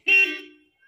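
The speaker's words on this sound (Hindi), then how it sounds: "हॉर्न देना जरूरी है क्या?" A single short vehicle horn toot blares close by in a village street, sharp at the start and fading within half a second.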